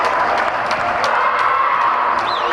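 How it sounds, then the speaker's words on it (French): Applause and cheering from spectators at a women's over-16 handball match between Capbreton and Saint-Sever fill the hall, a steady dense wash of clapping and crowd noise with a brief whistle-like tone near the end. "Des applaudissements de partout."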